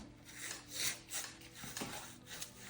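A brush sweeps satin varnish across a finished acrylic painting on canvas, soft rhythmic rubbing strokes swelling and fading close to the microphone, with no voices.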